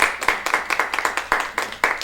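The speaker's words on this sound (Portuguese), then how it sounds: "Palmas para ele, por favor." An audience at a film screening debate clapping, a near, lively patter of claps with some louder hand strikes standing out in an uneven rhythm.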